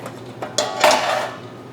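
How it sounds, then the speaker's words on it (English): A paella pan set down onto a stovetop burner gives a few short metallic clanks and a scraping clatter of cookware, close and fairly loud, with no voices. "And we'll do that right now by putting the paella pan on."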